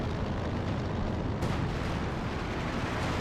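Artillery shells striking a headquarters in Company of Heroes 2, steady rumbling bombardment with a sharp impact near the middle, fairly distant and continuous.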